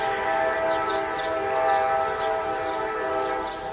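A train passes nearby, a sustained droning rumble with steady tonal hum and faint squeals from the rails, steady in loudness and easing slightly at the end.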